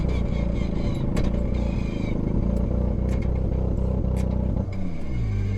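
Toyota GR Yaris rally car engine running loud and close, its anti-lag system crackling and popping in sharp bursts off throttle over a steady rumbling drone.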